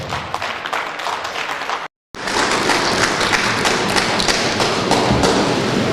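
A conference hall audience gives distinguished delegates a loud, dense round of applause that carries on with a brief break, close and full, with no talking over it.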